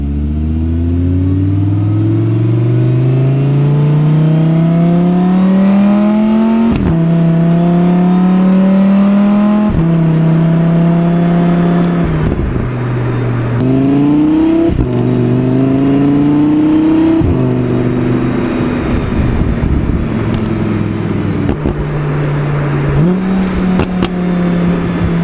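Audi R8 V10 engine revving hard toward a 9,000 rpm redline, picked up by an exhaust mic, with loud rising pulls, brief drops at each shift and repeated climbs throughout, no talking.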